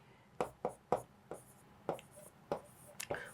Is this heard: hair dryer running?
no